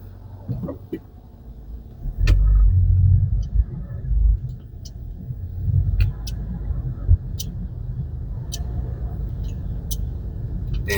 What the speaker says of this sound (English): right now I'm right on Punahou Street and there's some traffic here